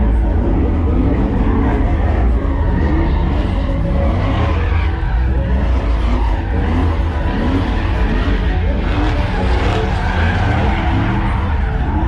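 Truck burnout pit at a custom truck show, with engines revving hard and tires squealing and skidding continuously and loudly for the whole stretch, crowd voices faintly underneath.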